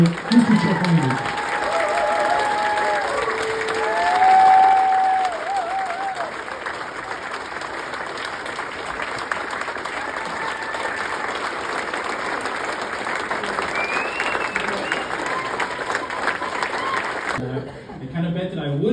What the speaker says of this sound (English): a huge round of applause for our first MVP tonight, Mr. Chuck Lande